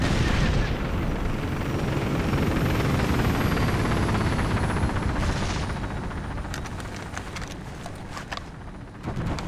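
Helicopter gunship rotor and engine roar dominating, loud and continuous, with bursts of gunfire crackling in the latter half, in the Operation Flashpoint: Dragon Rising war game.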